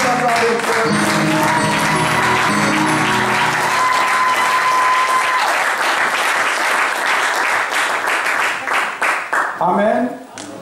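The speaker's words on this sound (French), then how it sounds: "Acclamons-le pour la gloire de Dieu." A church congregation bursting into loud, sustained applause and cheering during a worship service, with voices and shouts mixed in before the clapping thins out into a few scattered claps at the end.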